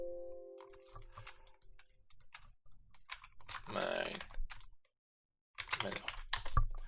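Keys clatter on a computer keyboard during work on a Unity mobile game menu, quick scattered clicks between stretches of someone talking, with a short pause before a final burst of typing.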